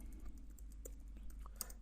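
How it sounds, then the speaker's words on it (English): Keyboard typing at a computer during a PHP coding lesson, quiet, rapid clicks of keys in a steady run with a few sharper taps, no talking. "Here I'm just typing this"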